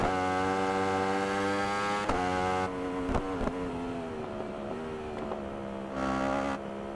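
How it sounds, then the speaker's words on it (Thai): Yamaha YZF-R1 motorcycle exhaust in RiMS Racing, a bright revving engine tone sweeping up and down through gear changes with brief sharp shifts, steady and moderately loud without talk. "เดี๋ยวฟังเสียง ท่อนะครับ ฟังเสียงรถนะ"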